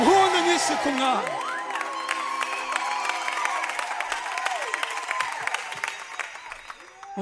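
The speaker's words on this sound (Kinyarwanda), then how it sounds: "impundu nyinshi ku Mwami" A church congregation ululates and cheers, with high trilling voices, claps and whoops rising loudly at first and then continuing as a sustained, busy crowd sound.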